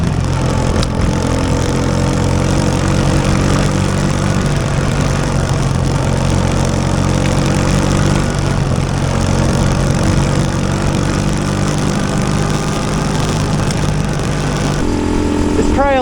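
Keeway small-capacity motorcycle ridden along a wet off-road trail in Lees Valley, New Zealand, its engine droning steadily and close throughout with shifting revs.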